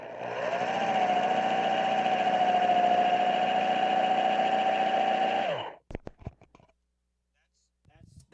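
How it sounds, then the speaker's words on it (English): A power drill bores into a piece of wood, picked up through a contact mic: a steady, loud whining motor drone holds for about five and a half seconds, then cuts off, leaving a few scattered clicks and handling knocks. "That's drilling a piece of wood right there for sure."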